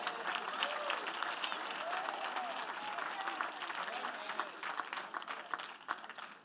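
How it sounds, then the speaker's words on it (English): A church congregation applauds steadily, dense clapping mixed with cheers and voices from the crowd, loud and continuous throughout. "Come on and put your hands together."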